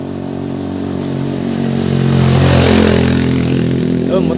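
A motorcycle engine swells louder as it approaches and passes close by, a deep revving rumble peaking midway then easing off.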